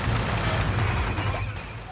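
Gunfire rattles across a Killzone battlefield with dead trees, loud and thick, with rapid overlapping shots and rumbling blasts that run together without a break over the whole clip.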